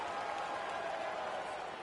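A home crowd cheers and applauds in an American football video game, a dense, steady wash of clapping and crowd noise heard from a distance at moderate volume.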